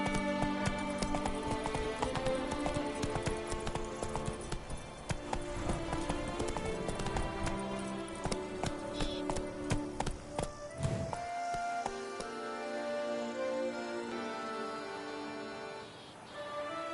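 Roach, Geralt's horse in The Witcher 3: Blood and Wine, gallops in a rapid, rhythmic clatter of hoofbeats over layered game music and ambience. The pace eases toward the end.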